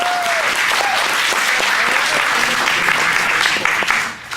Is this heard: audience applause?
yes